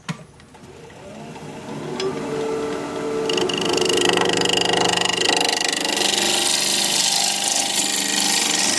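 A woodturning chisel is sharpened on a motorized sharpener whose whine builds over the first few seconds, then holds as a steady, loud grinding drone.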